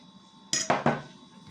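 Curd, sugar and eggs dropping into a mixing bowl for corn bread batter: three quick, close clinks and thuds in a row, followed by a quiet room.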